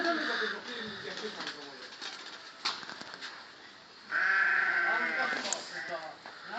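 Sheep bleat several times, one loud drawn-out bleat near the end, with birds cooing and a person talking in the background.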